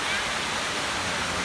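Palaypay Falls waterfall in Pamplona, Negros Oriental, Philippines, gives a steady, dense rushing roar that holds evenly throughout, close and continuous with no breaks.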